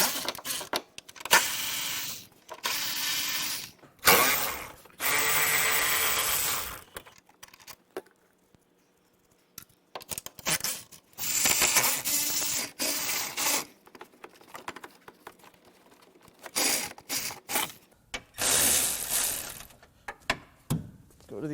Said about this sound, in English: Let me get my power ratchet.